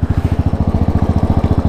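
Royal Enfield Classic 500 limited edition motorcycle running with a changed aftermarket exhaust, giving a loud, close, even thumping beat of regular single-cylinder pulses and no talk over it.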